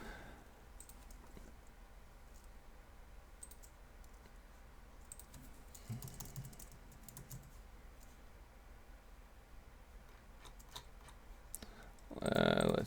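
Soft, scattered clicks of a computer keyboard as shift, escape and F10 are pressed, quiet and close, ending with a brief louder burst.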